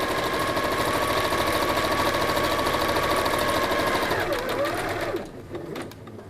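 Sewing machine stitching fabric for a drawstring bag, a fast, steady mechanical whir with rapid needle clatter that runs evenly, then slows and stops near the end, close up.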